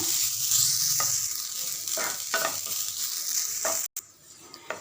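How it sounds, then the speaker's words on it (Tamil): Grated coconut roasts in a frying pan for Chettinad chicken gravy, a continuous dry sizzle broken by repeated scraping strokes of a spatula, close and alone. "அதே பேனில் தேங்காய் நல்லா ரோஸ்ட் பண்ணி எடுத்துக்கலாம்."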